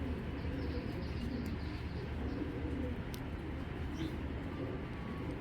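A big female Giribaz pigeon calls, a soft low cooing set far back in a steady wash of background noise, with faint higher chirps scattered over it.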